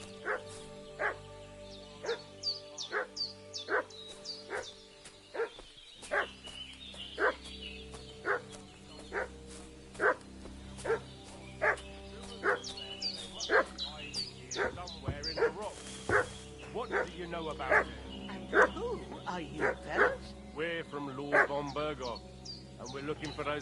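A dog barks repeatedly in sharp, evenly spaced yaps with some whimpering, fairly close and persistent, set in a medieval village scene, with a low drone underneath and a voice speaking briefly in the middle.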